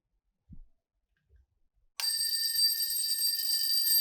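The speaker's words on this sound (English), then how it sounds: "You can hear the bell is ringing." An electric bell, the classroom kind with a small ball striker, starts ringing after two quiet seconds with a few soft knocks and then keeps up a steady, bright, continuous metallic ring close by.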